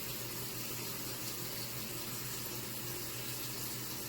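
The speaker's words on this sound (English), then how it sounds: "to shut the faucet and throw away" Water running steadily from a sink faucet, a constant quiet hiss of flow with no breaks and no talk.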